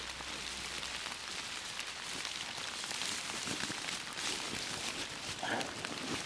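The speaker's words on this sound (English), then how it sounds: "Oh God, it is proper raining." Steady rain falls in an autumn forest, pattering densely on leaves and surfaces all around, with a constant close hiss and scattered louder drops, no voices.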